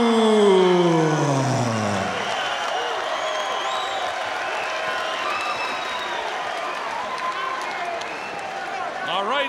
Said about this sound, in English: The crowd is in a frenzy.